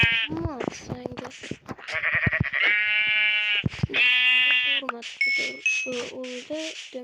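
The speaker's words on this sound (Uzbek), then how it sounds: "Do'stlar, bizga qo'y kerak." Sheep in Minecraft give several short wavering bleats between stretches of game voice chatter, with the calls spaced irregularly across the clip.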